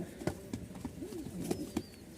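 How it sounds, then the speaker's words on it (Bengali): Rajshahi Giribaz pigeons coo softly nearby in short, low, rolling phrases, mixed with scattered light taps and rustles, with no talking. "খুব ভালো মানের রাজশাহী গিরিবাজ"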